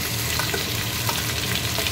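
Onions dropped into frying pork fat sizzle loudly and steadily, a dense continuous crackling hiss close up, with a faint stirring texture and no talk.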